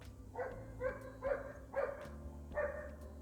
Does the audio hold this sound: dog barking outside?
yes